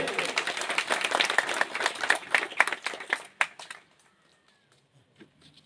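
Audience clapping at a prize ceremony for a regional Ram Natak drama, a brisk patter of applause lasting several seconds before it stops abruptly into near silence.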